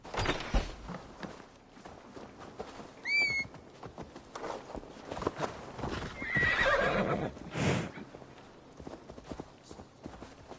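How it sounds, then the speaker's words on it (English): A horse in the video game Assassin's Creed Valhalla clip-clops along at close range, its hooves thudding steadily, with a couple of neighs and whinnies breaking in above the rumbling movement. "Basim, Eivor, to horse!"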